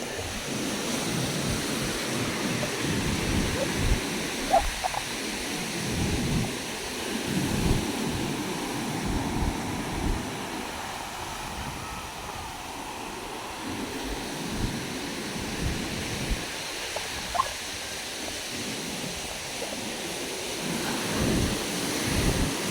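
Rough sea waves crash and surge onto the shore in a steady, loud, rumbling wash, with gusty wind buffeting the microphone throughout and no voices.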